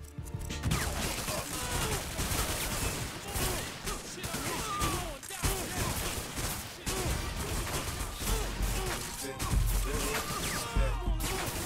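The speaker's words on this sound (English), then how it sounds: "J'ai le goût de pogner mon AK-47." Rapid bursts of AK-47 automatic gunfire from the video game 50 Cent: Bulletproof fill the scene in a dense, continuous barrage, with overlapping shots and crashes at steady loudness throughout.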